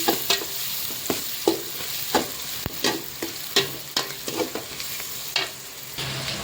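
Onions sauté in a pan for fish curry, a steady close sizzle broken by regular scraping strokes of a spoon stirring, with no talking.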